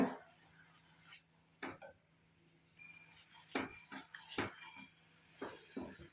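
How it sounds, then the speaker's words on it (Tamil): Amla powder mixture stirred in a bowl, giving several sharp spoon-on-bowl clinks and scrapes spread irregularly across a quiet background. "நெல்லிக்காய் பொடியும் சேர்ந்து நல்லா வந்து மிக்ஸ் ஆகணும்"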